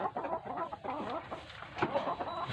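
Several chickens cluck and murmur close by, a busy overlapping chatter of soft clucks at moderate volume.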